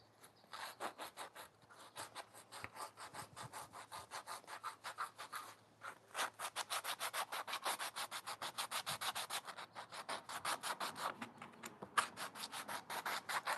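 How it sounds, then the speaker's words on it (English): Sandpaper rubbed by hand over a burst sprinkler pipe being repaired, a fast steady series of scratchy back-and-forth strokes, close and continuous with brief pauses, no voices. "Then take the sandpaper."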